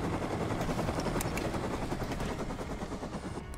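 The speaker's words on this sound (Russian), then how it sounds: "мен коптермен жүрмін" Helicopter flying in the survival game Rust, a dense, steady rotor and engine roar that stays loud and close throughout, with rapid chopping texture and no talking.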